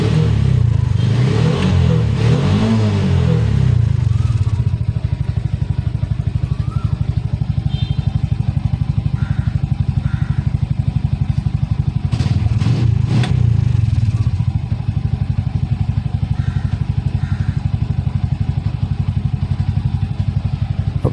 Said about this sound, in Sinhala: දැන් වාහන ස්ටාර්ට් වෙලා තියෙන්නේ.